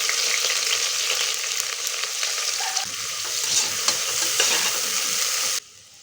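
Onions and green chillies frying and being stirred in a pan for chicken biryani, a steady loud sizzle with scraping stirs that runs for several seconds, then drops off abruptly near the end.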